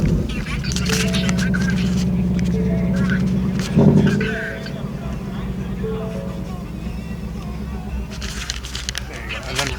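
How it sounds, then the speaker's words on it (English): A 2019 Ford Bullitt Mustang V8 idles with a deep, steady exhaust burble, gives a brief louder swell a few seconds in, then settles back, with faint voices and small clicks nearby. "Can we hear how the car sounds?"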